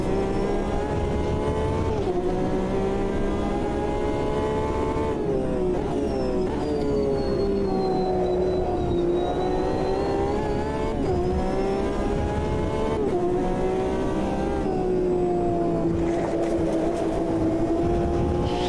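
Race car engine from the sim racing game Automobilista 2, heard during an endurance race: a continuous loud drone that rises and falls as it shifts through gears, with no talking.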